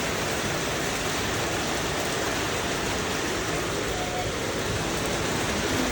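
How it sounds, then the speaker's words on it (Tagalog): Heavy rain pours down in a dense, constant hiss of roaring water, loud and unbroken throughout with no voices. "It's the rain."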